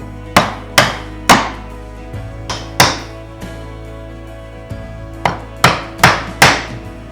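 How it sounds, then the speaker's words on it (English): A chisel is struck repeatedly to chop out mortise waste for hand-cut joinery on a Japanese-style wooden bookshelf. About a dozen loud, sharp woody knocks land in uneven clusters, each ringing briefly before fading. "After I chop all but the last 1/16 of an inch of waste away, will I then drop my chisel into the knife wall for that final clean cut."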